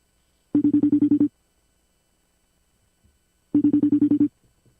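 A FaceTime call ringtone sounds in two identical bursts of quick, bright pulses, each about a second long with a gap of silence between, close and clear with no talk over it.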